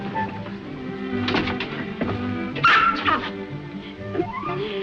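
A small dog named Chichi growls low and lets out whimpers and whines, close by in a 1940s film scene, with soft muffled room sound around it.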